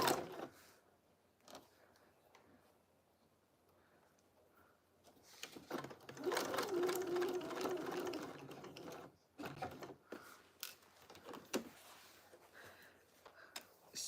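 A sewing machine stitches fabric close to a fold in short quiet bursts of soft whirring, pausing between runs, faint and nearby with small handling clicks in between.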